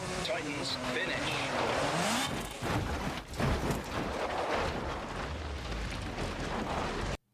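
A car in BeamNG driving simulation rumbles and revs steadily, then hits hard with a crunching crash partway through, followed by continued noisy motion, under a talking voice.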